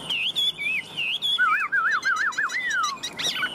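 A tame Chinese hwamei songbird sings up close and loud, a run of clear, rising and falling whistled phrases and rapid warbling trills, with no voices over it.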